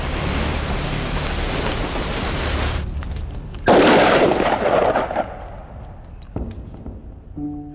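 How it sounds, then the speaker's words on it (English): Gunpowder in a pyrotechnic mixture bursts inside a gourd lined with thin clay, giving a sudden loud blast partway through after a steady hiss, then fading debris patter and a smaller pop. "we might well get a big bang if this pyrotechnic mixture wasn't compacted enough"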